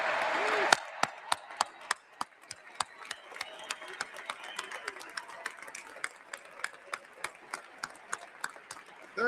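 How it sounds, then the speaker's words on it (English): An audience at an AIPAC speech applauds students, a soft crowd wash under sharp, evenly spaced individual claps that carry on steadily throughout. "We want to applaud you."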